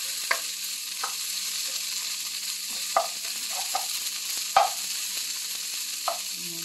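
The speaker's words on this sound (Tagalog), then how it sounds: "Luto po tayo ng ampalaya." Garlic and onion sauté in a pan while ampalaya (bitter gourd) is being cooked, giving a steady sizzle with a series of sharp scrapes and taps from stirring at irregular intervals.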